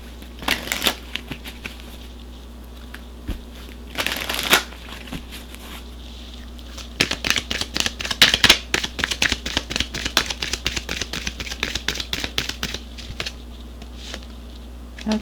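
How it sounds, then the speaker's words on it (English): Romance angel oracle cards being shuffled and pulled, soft rapid riffling and snapping bursts close by, sporadic at first and then a dense run of quick card flicks, with no talking. "let me pull a romance angel card and see what the angels"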